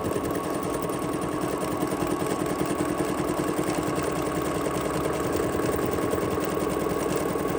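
A Bernina sewing machine fitted with a double cording foot stitches cording down, a steady, fast mechanical whirring hum close by, continuous with no talk.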